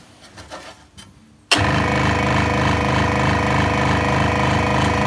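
A scroll saw starts abruptly after quiet handling noises, then runs steadily: a loud, close, rapid mechanical buzz with a fast reciprocating chatter and a constant motor whine that continues without pause to the end.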